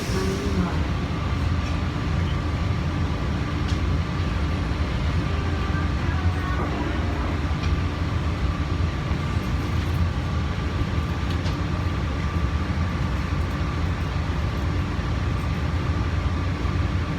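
The PHX SkyTrain airport people mover rolls along with a loud, steady rumble and hum of wheels and motors, a faint tonal whine running through the ride.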